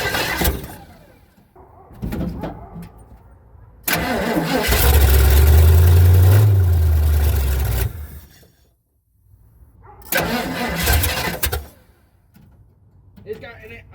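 A 1979 Ford F150 that has sat for years is cranked several times; a long loud burst in the middle catches briefly and rumbles before dying, followed by shorter cranking attempts, all close up with some talk around it.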